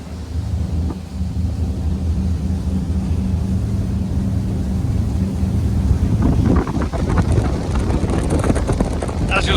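A Windy 39 Camira motor yacht runs at 20 knots off Mallorca, its engines giving a loud, steady roar with rushing wind and water noise that grows rougher toward the end.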